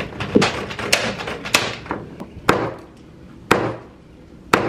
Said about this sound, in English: looks like we got the jackhammer stuck